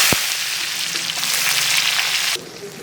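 Salted onions fry in mustard oil with a loud, close hiss and crackle that begins with a sharp knock and then drops suddenly to a quieter sizzle near the end.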